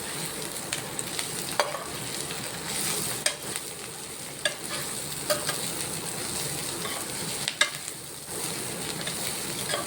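A Telugu tempering (popu) sizzles and fries steadily in a pan for a moeor curry of moong dal with gangabailu greens, with sharp crackles and occasional stirring clinks over a constant hiss, no talking.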